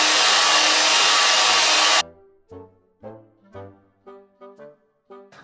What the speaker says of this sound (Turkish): Biraz daha pürüzsüzleştirmek için mikserle çöpüyorum